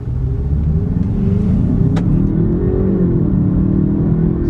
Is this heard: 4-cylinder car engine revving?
yes